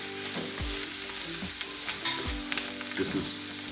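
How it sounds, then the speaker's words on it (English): Fat rendering out of meat in a hot pan for a nettle soup, a steady crackling sizzle with a few light stirring scrapes and pan knocks, close and alone. "You barely want any color in these. You just want the fat to render out"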